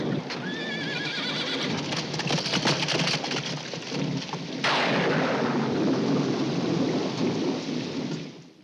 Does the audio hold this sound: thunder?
yes